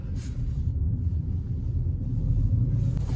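Ford Ka on a test drive, heard from inside the cabin as a steady low engine and road rumble that holds constant and fairly loud throughout.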